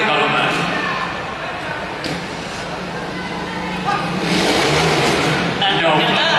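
A 125cc trials motorcycle engine revs in bursts during a trials riding display, loud and close, mixed with constant commentary and crowd noise.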